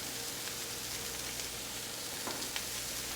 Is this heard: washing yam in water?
no